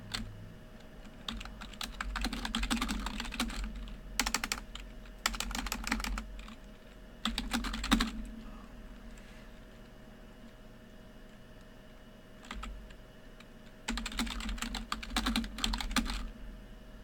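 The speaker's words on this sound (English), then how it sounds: "I'm just typing here away" Fingers type on a computer keyboard in several quick bursts of rapid clicking keystrokes, separated by short pauses, close and clear over a low steady hum.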